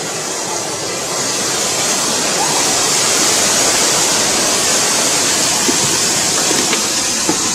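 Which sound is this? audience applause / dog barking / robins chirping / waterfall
waterfall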